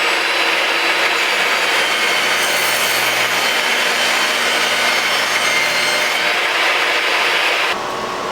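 A power saw rips 5.5-inch-wide plywood boards, making a loud, close, steady cutting roar that holds for about eight seconds before it cuts off sharply near the end, with no talking.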